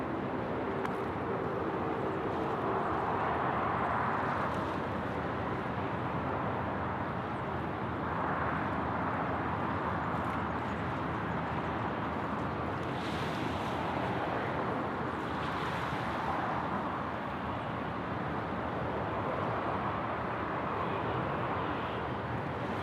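A Qantas airliner takes off from runway 34 right at Sydney Airport, heard as a faint, distant jet roar that swells and fades in broad waves over a steady rumble.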